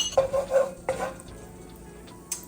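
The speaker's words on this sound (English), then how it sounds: "I'm also gonna throw in just a little bit of butter." Butter melting into olive oil in a pan gives a soft, close sizzle, with a few utensil clinks and scrapes near the start and a brief tap near the end, no talk.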